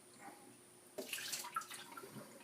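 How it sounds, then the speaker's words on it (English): Water is poured from a measuring cup into a deodorant cartridge, starting abruptly after a quiet moment and running as a close, splashy trickle that continues to the end. "Just go ahead and pour in some water like this."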